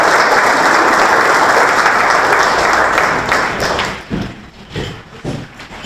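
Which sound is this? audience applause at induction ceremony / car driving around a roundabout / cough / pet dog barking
audience applause at induction ceremony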